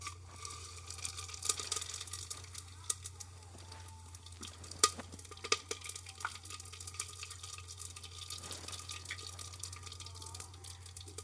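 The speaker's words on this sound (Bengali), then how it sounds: "তেলটা সুন্দর গরম হয়ে গেছে। সমস্ত ফোড়নগুলো আমি এখন দিয়ে দিলাম।" Whole tempering spices fry in hot oil in a clay handi pot, giving a soft, steady sizzle with scattered crackles and pops, close but fairly quiet, under a low background hum.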